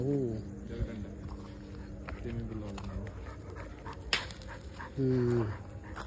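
A dog whimpers and yelps in short, whining bursts spaced across the recording, with a louder cry near the end over faint background noise.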